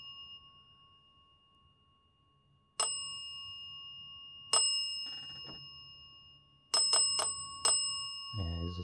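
A small metal bell beside a clown doll rings sharply in separate dings and a quick cluster of strikes, each ringing out clear and bright before fading, with a low rumble of handling noise at the end.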